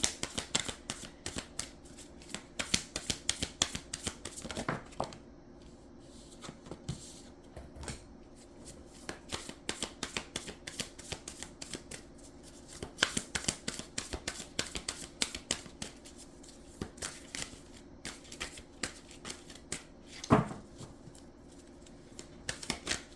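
Cards are shuffled over and over, a steady crisp riffling patter with brief pauses, close and clear with no talking.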